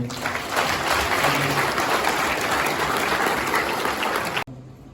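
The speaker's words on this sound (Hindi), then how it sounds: "फादर के लिए हम जोर ताली बजाएंगे।" Loud, dense clapping for a priest from a large congregation at an Easter night vigil in a Ranchi parish, a steady roar of many hands that stops abruptly near the end.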